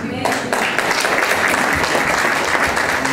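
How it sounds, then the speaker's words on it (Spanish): A wedding crowd claps loudly and steadily for a few seconds, with dense, continuous applause. "Damos un fuerte aplauso por los agradecimientos."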